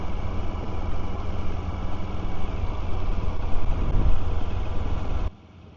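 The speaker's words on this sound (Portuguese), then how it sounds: "isto é uma moto que anda bem" A CFMOTO NK125 125cc motorcycle engine drones steadily while riding, with a rising buzz and wind rush that cuts off abruptly near the end.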